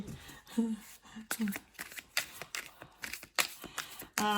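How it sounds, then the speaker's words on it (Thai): Tarot cards are shuffled by hand, giving a run of crisp riffling and slapping bursts that come in quick irregular clusters, close and moderately loud, with a voice speaking briefly at points. "แม่หมอสับไพ่ทีไรไพ่ตกทุกที"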